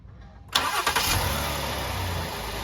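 A Honda Accord V6 engine cranks briefly without starter grinding, then catches and starts, settling into a steady idle that continues loudly to the end.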